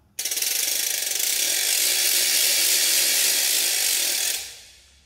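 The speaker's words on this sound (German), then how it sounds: "Dann die Ratsche fein." A fine children's ratchet noisemaker spun steadily, giving a loud, dense, continuous rattle of rapid clicks for about four seconds before tapering off, with no voices.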